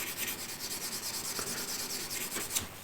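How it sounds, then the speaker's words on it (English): A 1000 to 1200 grit diamond hone is rubbed flat on a steel scraper to remove an old burr, making steady, close rasping strokes in an even back-and-forth rhythm. "this is diamond hone, I believe it's 1000 grit or 1200 grit, some of that, and just place it flat on the tool and remove the remnants of the old burr here."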